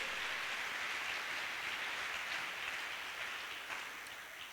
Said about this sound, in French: Acclamons au nom de Jésus